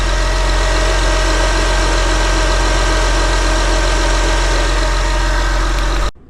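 Running 3.2-litre VTEC V6 of an Acura TL with a faulty alternator, a loud, steady whir over the idling engine close up, cutting off abruptly near the end.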